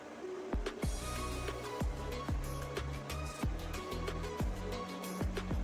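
A sewing machine stitches down a folded fabric strip for piping on a wall hanging made from old cloth, giving steady mechanical whirring with rhythmic, regular needle clicks throughout, close and continuous.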